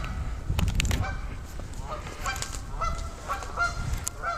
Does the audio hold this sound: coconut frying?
no